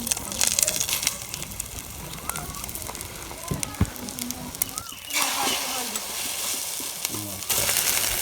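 A Maggi noodle egg omelette fries in a hot pan, a steady broadband sizzle that swells louder near the end, with faint voice-like tones and utensil clinks mixed in.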